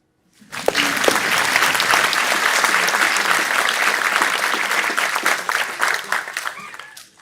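Audience applause at the IHE Delft Alumni Award 2023 ceremony for a hydraulic engineer's speech, a dense, steady wash of many hands clapping that swells quickly, holds loud for several seconds, then fades out.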